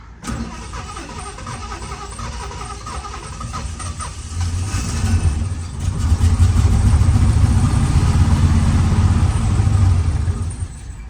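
A 1977 Lincoln car engine cranks on a start attempt after long storage, a steady mechanical churn that builds louder and rougher midway and keeps grinding close up, with no voices.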